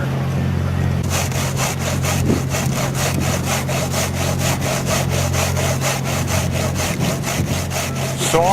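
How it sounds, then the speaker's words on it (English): A hand saw cuts excess snow from the back of a Hello Kitty snow sculpture at the US National Snow Sculpting Competition, rasping in a steady rhythm of quick strokes, close and loud throughout. "Sawing an excess part from the back end of that kitty."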